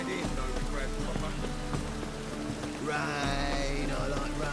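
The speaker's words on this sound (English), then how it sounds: "Rain, I like rain." Steady rainfall patters on surfaces in a scene from The Witcher 3: Wild Hunt, layered with low ambient music and soft effects, no clear voices.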